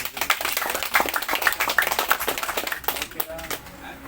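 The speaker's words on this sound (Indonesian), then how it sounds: "Oke, tepuk tangan." A small crowd applauds at an outdoor agricultural field event in a village, brief scattered clapping under a speaker's voice, fading after a few seconds.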